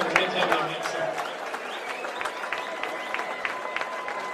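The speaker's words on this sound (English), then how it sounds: "how about a round of applause for both fighters?" Crowd applause for fighters after a heavyweight bout, a moderate spread of clapping and cheering with scattered sharp claps, fairly steady and somewhat distant.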